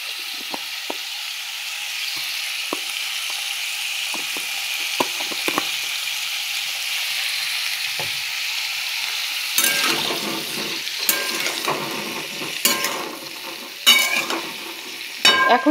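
Cauliflower frying in a home kitchen pan: a steady, fairly faint sizzle runs throughout, with louder scraping and stirring bursts and clattering handling sounds toward the end.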